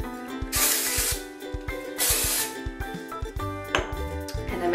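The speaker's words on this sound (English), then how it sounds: "And then my favorite hairspray, if you're wanting a stronger hold, is Control Addict from Redken." Redken Control Addict hairspray hisses onto hair in two strong sprays close to the listener, with softer puffs and small clinks of handling around them. No one talks.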